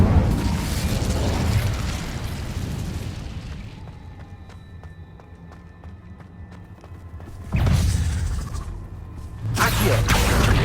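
Incendio fire spell cast in Hogwarts Legacy, a loud roaring whoosh of flame that drops to quieter ticking and clicking before two more strong fiery bursts near the end.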